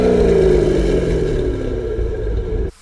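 A 2006 Corvette Z06 C6 with its 427 cubic inch V8 revs loudly, the engine note sweeping down through a strong, close drone before cutting off abruptly at the end.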